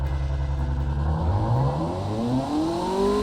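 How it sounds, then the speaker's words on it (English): A car engine in a racing video game revs up steadily, its pitch climbing with a deep, muffled exhaust tone from reverse-flow mufflers, the intake side open; no voices. "you can still hear the intake side is pretty open. Exhaust side is quite muffled."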